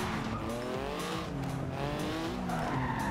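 A 1982 Porsche 911 Turbo 3.3 drifting in Forza Horizon 2, its tires squealing in a steady, wavering screech over the engine's drone, loud and continuous throughout.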